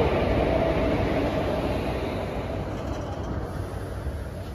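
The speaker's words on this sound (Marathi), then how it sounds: "येते आपली ट्रेन येते 12:11 समोर 12134 मंगलोर एक्सप्रेस" A Mangalore Express train hauled by a WAP-4 electric locomotive rumbles steadily at close range as it arrives at a station, a dense low roar of wheels and engine that eases slightly toward the end, with no voices.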